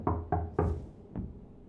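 Knocking on a door in the video game Rue Valley: three quick, firm raps, a short pause, then one softer final knock, close and clear.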